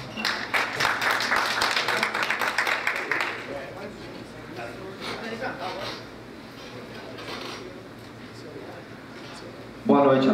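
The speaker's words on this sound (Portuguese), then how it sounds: "convido a todos para que em pé saudemos o Pavilhão Nacional com uma salva de palmas." Attendees at a municipal council session clap in a brief round that fades out after a few seconds into quiet room murmur and scattered taps, with a louder clatter near the end.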